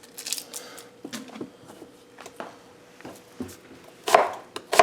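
A knife chops onion into chunks on a cutting board, a run of sharp, close taps in uneven bursts with a louder cluster near the end, no voices.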